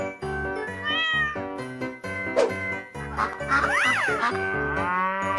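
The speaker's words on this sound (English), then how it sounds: "Cat." A cat meows in a series of drawn-out, rising and falling cries, loud and close, with other animal calls mixed into a playful animal-sound sequence.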